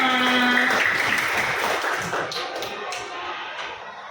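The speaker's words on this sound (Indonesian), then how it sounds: "tepuk tangan untuk kita semua" Classroom of pupils clapping together for themselves, a burst of rhythmic applause that fades toward the end, with a teacher's voice briefly at the start.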